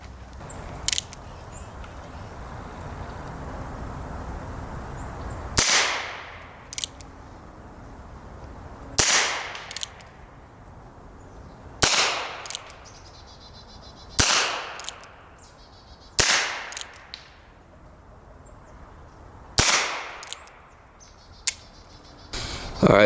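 Seven sharp gunshots from a semi-automatic .22 LR rifle firing handloads of 1 grain of Titegroup, spaced a few seconds apart, each a loud crack with a short ringing decay and no talk between them.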